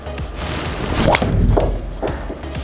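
A TaylorMade SIM 2 driver strikes a golf ball with a soft thud and swish, followed by a few fainter knocks and rustles outdoors, with no talk.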